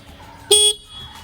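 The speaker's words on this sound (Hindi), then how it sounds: "एक बार इसका हॉर्न सुन लेते कैसा है" A single short Suzuki V-Strom motorcycle horn beep sounds, bright and buzzy, lasting about a quarter second against a quiet low background hum.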